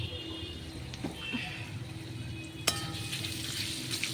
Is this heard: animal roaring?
no